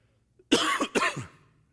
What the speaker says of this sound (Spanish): estoy batallando con la tos que tengo